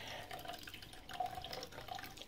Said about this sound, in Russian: наливаешь воду